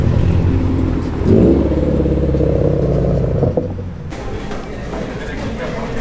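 A Subaru WRX engine revs loudly close by, a sustained throaty drone that rises and then drops off partway through, with traffic noise continuing underneath and some voices.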